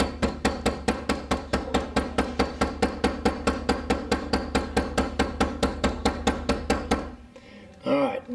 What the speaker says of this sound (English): I apologize for the noise, but calf tail takes a lot of stacking.